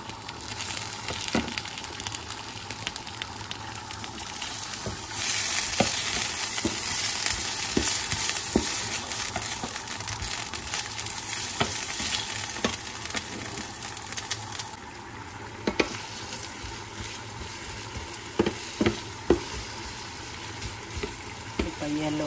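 Cut squash and potatoes fry in a pan, a steady sizzle under scattered clicks and scrapes of stirring, with a few louder knocks later on; no talk is heard.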